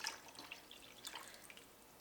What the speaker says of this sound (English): 1 pint of my cranberry juice, so then I'll add 1 cup of water